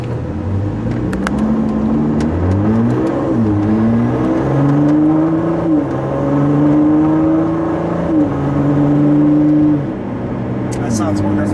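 A 2017 Ford GT with a 650 HP turbo V6 pulls away from a light, its engine note climbing through several gear shifts in a smooth, loud drone heard from inside the car, settling toward the end.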